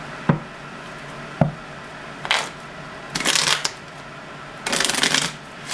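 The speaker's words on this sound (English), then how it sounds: "So I'm going to pull a oracle card for you" A deck of oracle cards is shuffled in several separate bursts: two sharp taps, then three riffling rustles of about half a second each, close and fairly loud against a quiet room.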